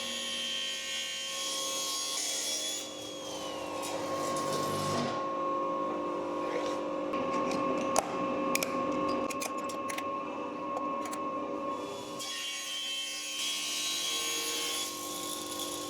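Continuous rasping of a saw cutting through a beech hardwood countertop, steady and close, with a brief pause near the middle before cutting resumes.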